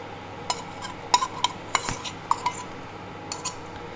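A metal spoon stirs milk and dates in a pot on the boil, making a handful of sharp, close clinks against the metal in an uneven rhythm over quiet background.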